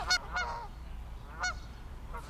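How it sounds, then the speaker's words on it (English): Geese honk near a disc golf course during a tournament: a couple of quick nasal honks at the start and another burst about a second later, moderately distant over a low outdoor background hum. "The geese are having a time back there, and Maria fortunately taking par."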